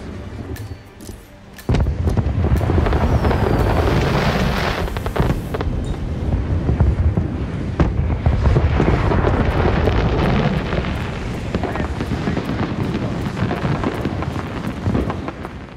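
Fireworks bursting over Paris in the Hitman game, a dense, continuous roar of booms and crackles that starts suddenly and stays loud and near throughout, with no voices.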